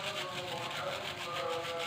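Ingredients for carp fishing bait are grated by hand, a faint, continuous rhythmic scraping with soft repeated strokes and low murmuring in the background.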